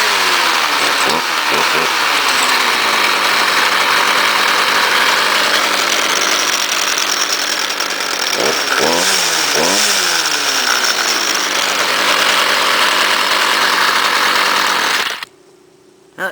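A gas string trimmer, likely a Stihl, runs loud and steady, its engine note rising and falling a few times as the throttle revs, then cuts off abruptly near the end.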